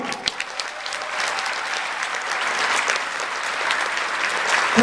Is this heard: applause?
yes